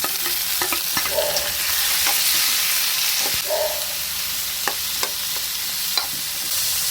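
Tomato frying in a pan for North Karnataka red chutney, a steady hiss of sizzling with sharp spatula scrapes and taps at intervals, close and alone without talk.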